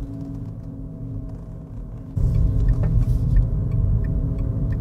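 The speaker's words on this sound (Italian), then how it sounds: "Questo rumore è il pedestrian warning." A steady low electronic hum from a Renault Twingo Electric's pedestrian warning sound at city speed under 30 km/h, which swells noticeably louder partway through and continues droning without speech.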